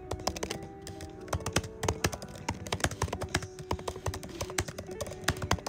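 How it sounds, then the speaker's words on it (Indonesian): A laptop keyboard is typed on up close for ASMR, with rapid, irregular crisp clicks and taps in quick bursts, continuous and clearly audible over a faint background hum. "Keyboard laptop"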